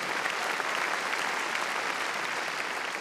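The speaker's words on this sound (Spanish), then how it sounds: "démosle palmas fuertes al Señor" A church congregation at a Sunday evening service claps loudly and steadily, a dense, continuous wash of many hands filling the whole stretch with no break.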